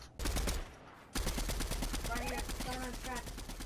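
Rapid automatic gunfire in Fortnite Chapter 3 Season 1, with close, loud repeated bursts after a short gap, while a voice talks over the shots.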